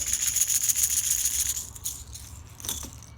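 A Rattle Trap lipless crankbait lure is shaken rapidly up close, its internal beads rattling in quick bursts that fade out, then a short rattle again.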